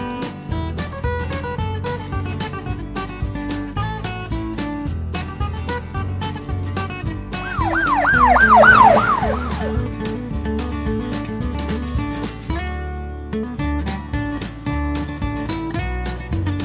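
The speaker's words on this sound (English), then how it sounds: "Police car." A Tomica toy police car siren wails in rapid rising and falling sweeps over busy background music for a couple of seconds, then fades back under the tune.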